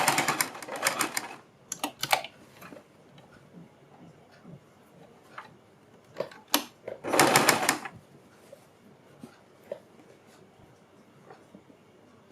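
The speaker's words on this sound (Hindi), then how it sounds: "ये जो हमारा बीच का गैप है इसमें भी हम इसी तरह से सिलाई लगाएंगे।" A sewing machine stitches the neckline of a kurti, with several bursts of fast mechanical rattling separated by pauses and softer handling clicks, close and fairly loud.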